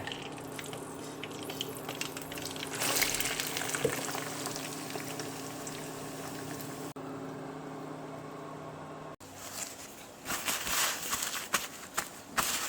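Shelled peanuts and garlic frying in oil for adobong mani: a continuous close sizzle and crackle of hot oil, easing briefly before flaring up again with louder bubbling crackles.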